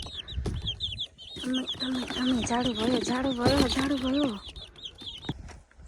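A hen clucks in a village yard, repeated short calls close by while a voice talks over them and chicks peep faintly.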